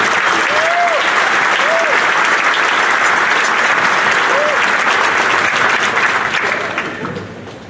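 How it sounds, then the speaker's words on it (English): Commencement audience applauding the Spring 2023 graduating class, a dense, steady wash of many hands clapping that fills the hall for about seven seconds before tapering off, with a faint whoop or voice rising briefly above it. "Let's give them a round of applause."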